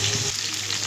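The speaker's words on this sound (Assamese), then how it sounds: "জলকীয়া পুৰি আছোঁ।" Raw bhut jolokia chillies roast in a pan, giving a short, steady sizzle and crackle, close and even, without speech.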